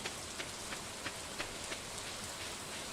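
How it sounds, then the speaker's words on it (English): Steady rain pours in Stardew Valley, a soft even hiss of falling drops with small regular pulses of sound, moderately quiet and without voices. "Looks like the rain hasn't affected too much of the place."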